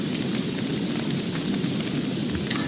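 Steady rain pours down in the video game Don't Starve, a dense continuous wash with a low thunder rumble underneath, loud and unbroken with no talk.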